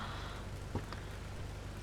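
Steady, faint rain falls on a beach in the video game GTA Vice City, a soft continuous hiss under a low rumbling game hum, with one small tap partway through.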